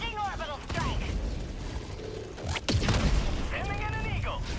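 Orbital barrage explosions in the Helldivers 2 video game, heavy booms and rumbling blasts building to a loud, dense stretch in the second half, with game voice chatter and mechanical sounds around them.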